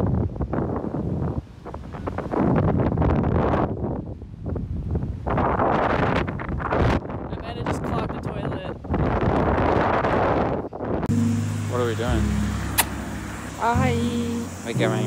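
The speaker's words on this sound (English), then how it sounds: "It is extremely windy." Strong wind in Wellington buffets the microphone in loud, continuous gusts. Traffic and other street noise blend in near the end, and a voice is heard.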